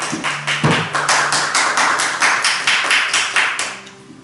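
A church congregation claps along in a steady, quick rhythm during a worship service, sharp claps repeating close and loud over about four seconds with no talking.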